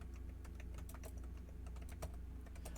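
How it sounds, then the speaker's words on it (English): Rapid, uneven clicking of fingers typing on a computer keyboard, close by, over a low steady hum, with no talking. "Oh, I'm typing it wrong there."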